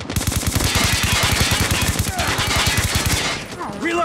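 An automated sentry gun in a shooter video game fires a long, steady, rapid stream of loud automatic shots up close, breaking off near the end into game sound effects.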